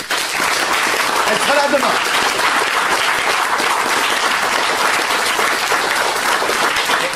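Steady, dense audience applause for a painter at an arts event in Moûtiers, Savoie, filling the whole stretch at full volume, with a brief spoken line heard over it.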